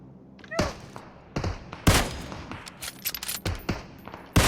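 Gunfire from PUBG Mobile rings out in sharp, loud, separate shots and short bursts spaced irregularly across the moment, each with a crisp crack and brief tail.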